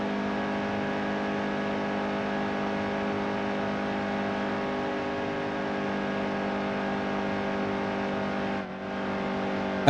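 A truck engine drones at steady high revs in the racing game NASCAR Heat 2, a constant loud whine with one brief dip near the end and no voices.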